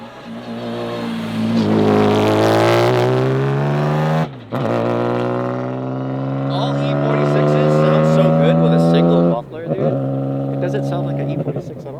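Mercedes-Benz 190E race car engine revving hard at a track day, a loud rising howl held high, then cut sharply twice between sustained revs.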